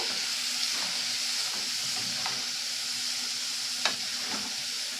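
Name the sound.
stirring onions into fried poppy seeds in a pan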